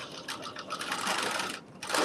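A sewing machine runs a steady whirring rattle while stitching two rows of basting stitches for gathers on a McCall's 8142 sleeve, near and continuous with a brief pause before resuming.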